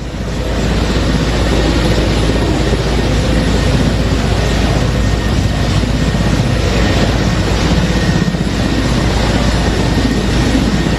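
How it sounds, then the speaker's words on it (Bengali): A helicopter flies away in news footage of a departure from Bangladesh, a loud, steady engine and rotor roar that holds constant throughout with no voices. "হেলিকপ্টার করে দেশ ত্যাগ করেছেন।"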